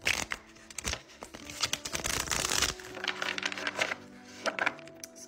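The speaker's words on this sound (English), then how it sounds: "we'll put those cards back and we'll do a shuffle" A deck of tarot cards being shuffled close by, a run of quick papery riffles and soft slaps with short pauses between bursts, quiet and with no talk over it.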